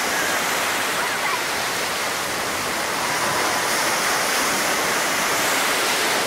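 Ocean surf at Myrtle Beach roars in a steady, loud, broadband wash of breaking waves, continuous and unbroken throughout.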